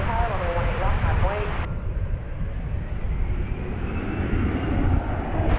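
A Frontier airliner at DFW Airport roars as it passes, a broad steady jet rumble with a rising whine, heard from a distance beneath someone talking.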